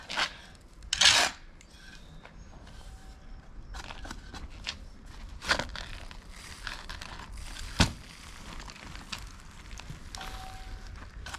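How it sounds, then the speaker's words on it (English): A garden rake drags loose soil back from a freshly dug residential sprinkler trench, giving rough, irregular scraping and rasping strokes at close range with small crunches in between. "If you start your trench like here, like rake this loose stuff back."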